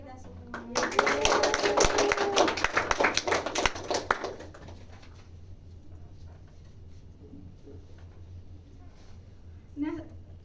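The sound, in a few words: classroom applause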